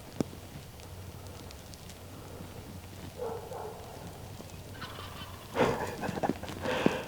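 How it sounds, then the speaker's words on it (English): A wild turkey gobbles at a distance, brief rattling calls rising above quiet outdoor background noise, with a louder burst near the end. "He likes gobbling to them dogs."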